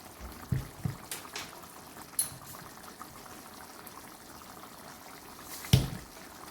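Chicken karahi cooks in a pan with a low, steady bubbling sizzle. A few sharper pops and clinks stand out now and then.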